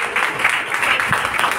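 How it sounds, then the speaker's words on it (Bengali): A short, steady burst of audience clapping at a jatra theatre troupes' inaugural ceremony, dense and fairly close throughout. "তাই সকলে একটা জোরে করতালি দিয়ে"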